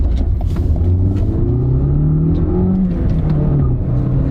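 A manual car pulls away hard, tires chirping, its engine note climbing steadily as it accelerates, loud and close, with a continuous low rumble throughout.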